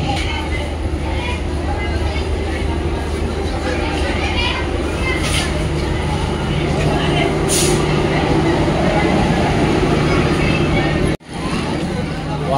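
A train rolls in to a crowded platform on a holiday, giving a steady low rumble under constant crowd babble and voices for the whole stretch, with a sharp drop and brief break near the end.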